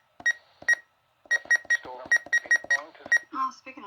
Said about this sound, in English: as we were saying with the RadioShack 12-250, let's take a listen to the button beeps